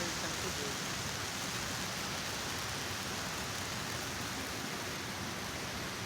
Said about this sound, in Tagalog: Umuulan no rito, ayan.